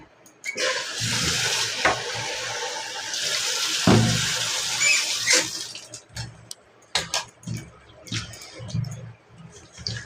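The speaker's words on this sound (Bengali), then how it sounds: "এখন বেগুনটা ভালো করে ধুয়ে নিই" Water runs from a tap while an eggplant is washed by hand, a close splashing gush with bursts and gaps as the vegetable is moved under the stream.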